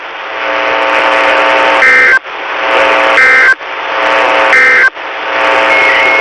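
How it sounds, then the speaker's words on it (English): NOAA Weather Radio warning tone alarm, a loud, harsh buzzing tone that sounds in four long pulses, each cut off by a short break, with no voice over it. "This is a test of the National Weather Service's radio warning tone alarm"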